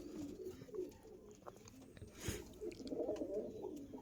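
Andhra Mangalagiri Lalsira pigeons cooing softly nearby, low, faint, repeated coos under quiet room noise.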